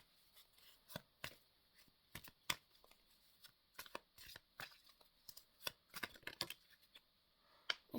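Tarot cards are shuffled by hand in a quiet room, making a string of crisp, close, irregular slaps and rustles that come in bursts with short pauses between them.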